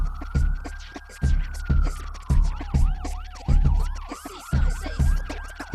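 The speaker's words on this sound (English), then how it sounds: "Those are authentic Bushwick sirens." Police sirens in Bushwick sweep up and down in overlapping wails, layered into a music beat with a heavy, regular kick drum, loud and close.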